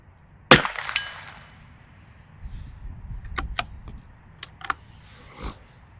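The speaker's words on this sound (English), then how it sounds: "Small gong." A rifle shot cracks sharply, followed by several brief metallic pings from a small steel gong target struck at 100 yards, with faint ambient background between impacts.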